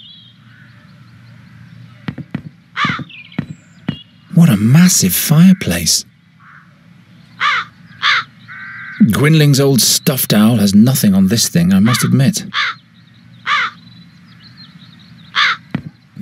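Crows caw loudly inside a castle in a video game, repeated harsh calls that come in bursts, with a voice talking between and over them.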